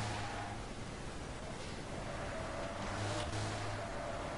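A steady, droning truck engine roar from the Truck Racer video game holds at a constant level throughout, with broadband rumble and no pauses; no one speaks.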